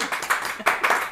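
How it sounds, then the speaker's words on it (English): Brief scattered clapping from a small audience on an antiques gameshow, a few close hand claps in an uneven rhythm lasting about a second. "Kathy, give her a round of applause."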